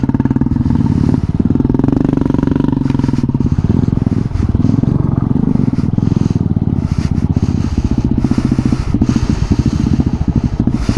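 A motorcycle rides an off-road forest trail at night, its engine chugging loudly and steadily close by with rough rattling and scraping from the uneven ground, and a voice speaks briefly over it.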